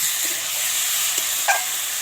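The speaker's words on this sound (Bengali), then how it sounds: "এটা হচ্ছে মাংসটা দুপুরে যেটা খাবো সেটা কষানো হচ্ছে" Meat being slowly sautéed for kosha in a pot over a wood-fired clay stove, a steady broad sizzling hiss with a couple of faint stirring knocks.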